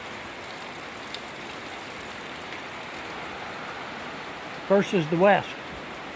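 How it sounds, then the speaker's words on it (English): Heavy rain falls steadily outdoors in Idaho, a dense, even hiss close by throughout, with someone speaking briefly over it near the end. "Now for Idaho, in my area, this is a pretty good rain."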